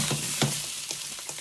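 Sausage frying in a hot pan, a constant crackling sizzle with a few soft stirring clacks from a utensil, close and steady, no one speaking.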